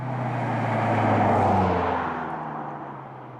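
BMW M6 Gran Coupe with a V8 engine driving by, a steady low rumble that swells toward the middle and then fades as it moves away, heard alone without talk.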